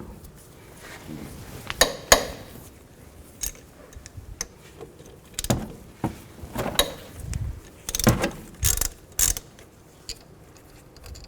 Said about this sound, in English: Now I'm going to take these caliper bolts out. I'll use a 14mm socket.